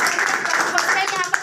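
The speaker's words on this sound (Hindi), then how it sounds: "बालाजी सर के लिए एक बार जोरदार तालियां।" Brief burst of seminar audience applause, dense and steady, with a voice speaking over the clapping.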